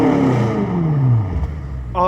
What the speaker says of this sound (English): we've got the carbon fiber tips here on our BMW Performance exhaust. And let's have Trish give us a little note here.